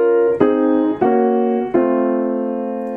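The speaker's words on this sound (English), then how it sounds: "when he uses the Spanish or Andalusian cadence, which is a trademark of Spanish music and sounds like this," Spanish or Andalusian cadence in the style of Albéniz: four sustained, rich harmonic chords struck one after another, each ringing and slowly decaying. They sound close and clear, with no talking.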